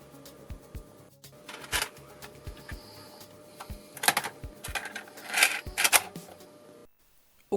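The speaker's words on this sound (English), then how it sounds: "let's get one of these into a tape drive" Mechanical clicks and clunks of a tape cartridge being loaded into a tape drive, a series of close, sharp knocks and rattles, then a short pause and one final click.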